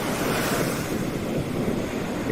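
Ocean waves and surf roll continuously at Ocean Beach, a loud steady roar blended with gusting wind buffeting the microphone, with no voices.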